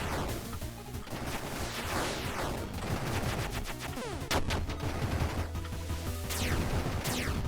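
Rapid gunfire in the shooter game Monolith during an eyeball boss fight, dense bursts of shots and impacts crackling continuously at a steady loud level with no talk.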